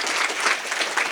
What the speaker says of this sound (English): Applause for Thomas.